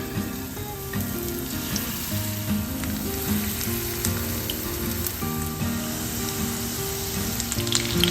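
Chicken strips for dragon chicken fry in hot olive oil, giving a steady, even sizzle and crackle close by, with a soft melodic tune playing underneath throughout.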